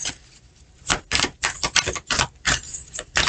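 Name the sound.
tarot cards being pulled and handled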